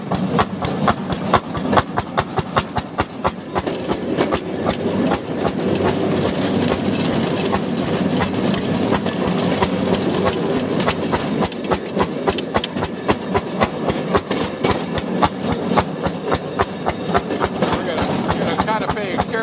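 A Fairmont S2 rail motor car engine fires on every stroke in a rapid, steady chugging rhythm, loud and close for the whole stretch, with faint high squeals above it.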